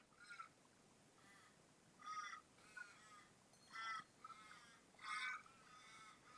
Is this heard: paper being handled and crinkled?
no